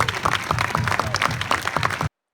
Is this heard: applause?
yes